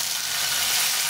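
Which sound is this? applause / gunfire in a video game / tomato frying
tomato frying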